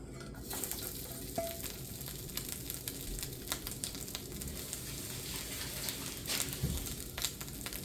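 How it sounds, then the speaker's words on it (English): Beef stir-frying in a wok for Thai fried rice, a steady close sizzle with scraping stirs and clinks running throughout, no talk. "So what we want to do is we want to basically stir fry the beef."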